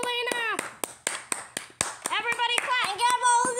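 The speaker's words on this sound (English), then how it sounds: "Everybody clap." Hand claps from a small group gathered around a child holding a guitar, a run of sharp irregular claps mixed with children's voices and talk.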